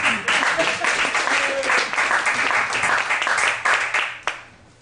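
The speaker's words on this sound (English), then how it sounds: "Clap for whatever his name is" A comedy show crowd claps and applauds for a performer, loud dense clapping with scattered whoops that carries on for several seconds before dropping away near the end.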